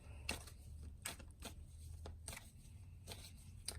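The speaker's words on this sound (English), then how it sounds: "So I am shuffling the cards for you" Soft, close riffles and snaps of tarot cards being shuffled, several brisk bursts separated by brief pauses, quiet overall.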